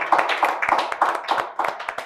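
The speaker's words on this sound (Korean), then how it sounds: "함께 이야기 나누어 주신 패널들에게 감사의 박수 드리도록 하겠습니다" A small group at a Korean family-worship webinar claps for the panelists, a sparse, uneven run of close hand claps lasting about two seconds.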